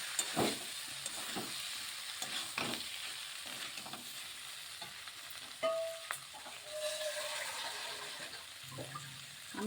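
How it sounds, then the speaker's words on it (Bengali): Fried winter vegetables are stirred in a spice paste that has released its oil. A continuous moderate sizzle is broken by repeated scraping and stirring strokes of a spoon in the pan, with no talk. "একটু কষিয়ে নিচ্ছি।"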